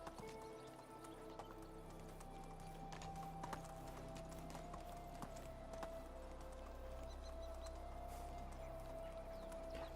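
A horse's hooves clip-clop in the video game Medieval Dynasty as it moves along at a steady gait, with soft hoof knocks heard over sustained tonal game music and ambience.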